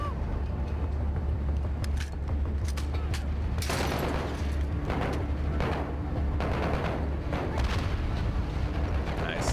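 Grenade blasts and gunfire ring out in the Call of Duty Modern Warfare campaign, a heavy rumbling bed broken by repeated sharp bursts and booming impacts, loud and dense throughout.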